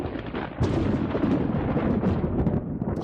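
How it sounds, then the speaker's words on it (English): A loud thunderclap sound effect: a sudden heavy crack that rolls into several seconds of deep, rumbling thunder, close and alone. "A thunderclap."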